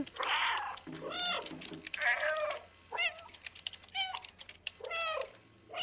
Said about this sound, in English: who the heck is typing? A cat?